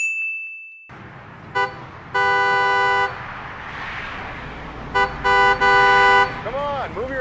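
A car horn honks in several blasts, one long and then a string of short toots, close by amid traffic noise.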